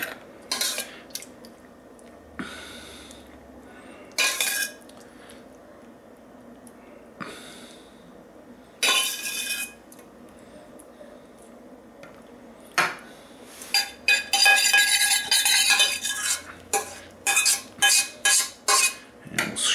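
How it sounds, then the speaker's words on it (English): A utensil scrapes leftover enchilada sauce from a dish in short, separate scraping and clinking strokes with quiet gaps between them, growing busier and faster toward the end, heard close with no talk. "Scrape every last drop out because it's so darn good."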